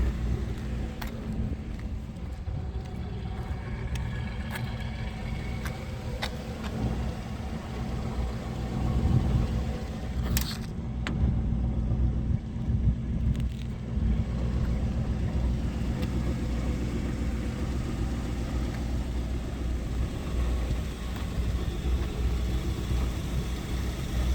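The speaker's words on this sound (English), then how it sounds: "Engine's pretty quiet." A 1966 Ford Mustang Convertible engine idles with a low, steady rumble, running quietly and evenly throughout with no voices.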